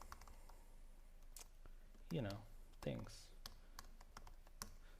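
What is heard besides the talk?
typing on a computer keyboard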